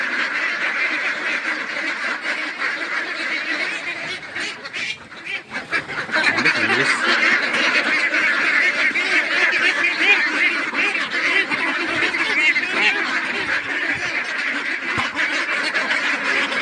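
A flock of two-month-old farm ducks quacks continuously and loudly, a dense chorus of overlapping calls from hungry birds waiting for feed, with a brief lull midway before the clamor resumes.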